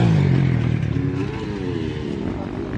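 A motorcycle circles a practice track, its engine droning loud and steady close by with pitch shifts as it rides through the lap, accompanied by some clattering.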